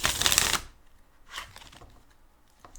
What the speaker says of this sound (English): We're shuffling here for Leo.